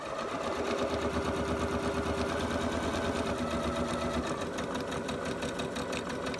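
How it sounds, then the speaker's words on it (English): Sewing machine stitching Halloween bunting pieces one after another, a fast, steady mechanical whirr and rapid needle clatter running nonstop, close and loud with no talking. "So you are going to sew off of one onto the next, back tack, and then come straight down."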